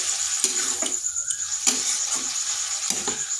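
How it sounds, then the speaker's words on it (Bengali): Banana stem (thor) curry frying in a pan as a little water is added, giving a steady close sizzle with intermittent stirring scrapes and bubbling bursts. "এখানে সামান্য একটু জল দেব।"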